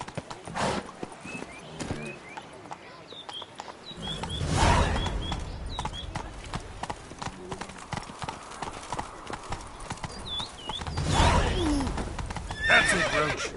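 Roach, a horse in a video game, trots with steady clip-clopping hooves and gives two loud neighs and whinnies, while birds chirp faintly in the background.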